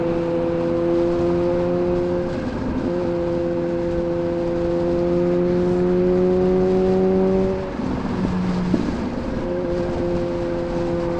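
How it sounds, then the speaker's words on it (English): Kawasaki Z H2 motorcycle engine cruising through traffic, a steady loud drone with harmonic tones that holds even, briefly dips and shifts around a gear change, then settles back, running alone without talk. "God, this bike sounds so good."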